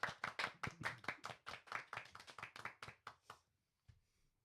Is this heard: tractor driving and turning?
no